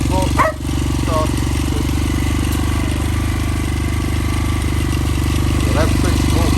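The engine of a cheap Chinese quad bike with a faulty starter catches after a short burst and then runs at a steady, rough, close idle, with a few brief faint vocal sounds over it.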